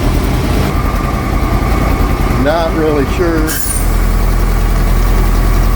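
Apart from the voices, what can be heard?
International Loadstar truck engine idling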